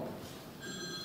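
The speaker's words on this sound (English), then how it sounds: "Who's got a mobile phone on?" A mobile phone rings during a church sermon, its electronic ringtone tones sitting steadily over the murmur of a large room and audible for about the second half of the short moment.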